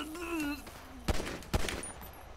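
Gunfire in a GTA V police-mod game: two sharp shots about half a second apart, loud and close, following a brief tonal whine, with no talk over them.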